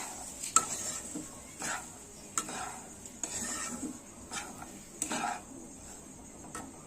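Semolina and water are stirred in a pan over low to medium flame, soft scraping strokes and light clinks of the utensil recurring every second or so, quiet and close against a faint background hiss.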